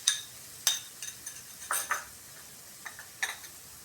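Coconut filling for kuli pitha, cooked with soybean oil, a sweetener and a pinch of salt, is stirred in a pan, producing short scraping strokes and light clinks at an unhurried, irregular pace against a quiet background.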